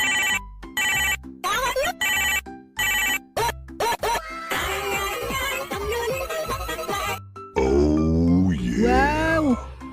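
A new cellphone in a Filipino cartoon rings with a bright, repeating electronic ringtone in choppy bursts, mixed with animated voices and grunts, ending in a swooping tonal flourish.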